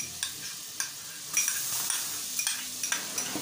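Garlic paste frying in melted butter inside a cooking pot for chicken makhani, a steady soft sizzle with occasional sharp clinks of a spoon stirring against the metal.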